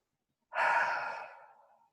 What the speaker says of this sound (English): see a bit of a yawn